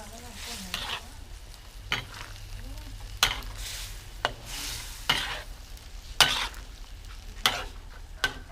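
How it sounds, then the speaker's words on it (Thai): Shellfish fry in a hot pan, giving a steady bed of sizzling, and a utensil stirs and scrapes them in rhythmic strokes about once a second, close and clear. "ทอดหอยครับ"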